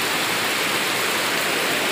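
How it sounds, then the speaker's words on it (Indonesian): Steady rain pours down in Tanah Grogot, East Kalimantan, a dense, even hiss of drops on surfaces that holds unbroken and fairly loud throughout, with no voices over it. "Ini lagi hujan guys, sekarang di Tanah Grogot, Kalimantan Timur."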